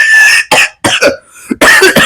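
Several loud, harsh coughs close to the mic, grouped in bursts with short pauses between them and no talking over them.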